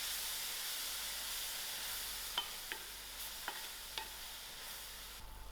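Grated tomatoes hiss and sizzle steadily in a hot pan with cooked masala as they are stirred, with a few sharp scrapes and taps of the spoon standing out over the constant frying noise.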